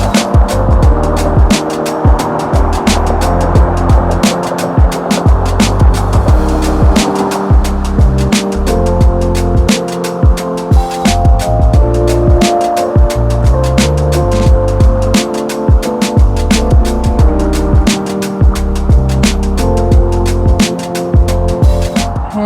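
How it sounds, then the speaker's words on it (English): Loud, steady roar of noisy cars passing close by on a road at sunrise, engine and tire noise continuous throughout with repeated swells as vehicles go past, no talking. "Despite of all the cars driving by that are very noisy"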